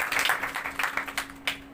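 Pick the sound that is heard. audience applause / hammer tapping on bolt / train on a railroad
audience applause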